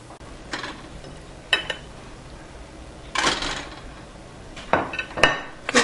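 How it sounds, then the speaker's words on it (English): Boiled eggs slide into a pan holding a teaspoon of hot oil, giving a few separate clinks and knocks against the metal with quiet gaps between them. "So here I have a teaspoon of hot oil into pan, and in that I will slide down all these boiled eggs."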